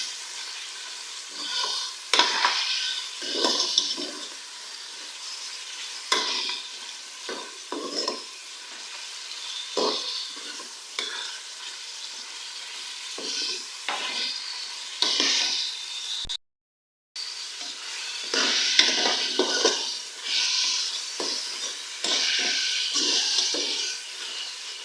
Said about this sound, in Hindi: बीफ को प्याज के साथ फ्राई करेंगे।